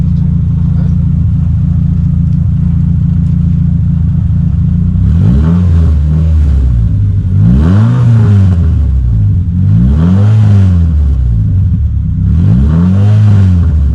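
A Renault Clio Sport 2.0 16V 182 hp hatchback engine idles loudly up close, then revs hard four times in a row, each rise and fall roaring and rumbling.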